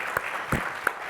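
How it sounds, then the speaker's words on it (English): Applause for award winners at the close of a Red Bull, Microsoft and AMD creator event, a steady wash of clapping from a crowd with a few louder accents, continuous and moderately loud throughout. "Let's give them a round of applause."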